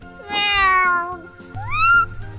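Children at a playground imitate a cat during a game of Simon Says, giving two loud, close, drawn-out meows: the first long and gradually falling in pitch, the second shorter and rising, with no other talk.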